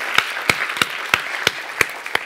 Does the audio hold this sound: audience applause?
yes